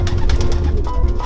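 Low, throaty cooing from a racing homer pigeon, a Gabby cock bred in 2013, close and loud over a brief stretch of rumbling background.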